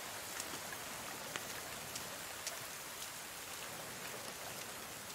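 Steady rain in the survival game The Forest, a continuous soft hiss of falling drops with faint scattered patters, heard alone without any voices.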